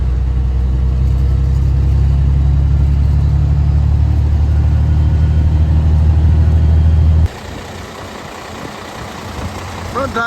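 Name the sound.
truck engine driving out of a driveway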